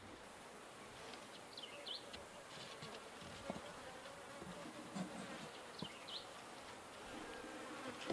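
Honey bees buzzing around an opened horizontal beehive outdoors, a continuous soft hum with individual bees whining past close by, and faint bird chirps in the background.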